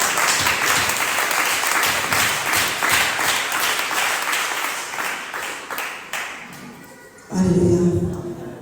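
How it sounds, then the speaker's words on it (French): A worship-service congregation applauds for Jesus in a loud, sustained wash of clapping that fills the room for several seconds before breaking off, after which a voice is heard. "Est-ce que quelqu'un peut acclamer pour le Seigneur Jésus?"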